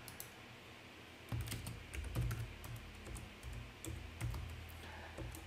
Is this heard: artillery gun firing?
no